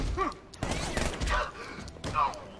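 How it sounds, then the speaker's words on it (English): Batman: Arkham Knight gunfire in a shootout with armed thugs: several short bursts of shots and impacts scattered over a couple of seconds, mixed with game effects and some vocal sounds. "They are shooting me, they can see me now!"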